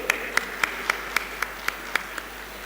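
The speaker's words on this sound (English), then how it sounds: "Let's give them a round of applause" Steady, evenly spaced hand claps ring out at a gala anniversary celebration, about nine crisp claps in a regular rhythm over a low, hushed room background.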